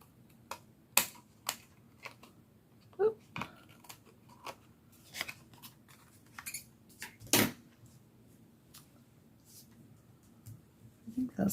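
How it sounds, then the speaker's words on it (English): Scissors trimming the outside edge of paper for a junk journal library pocket: a string of short, sharp snips and clicks at irregular intervals, close by and fairly quiet. "let me grab my scissors and we'll trim off the outside edge here"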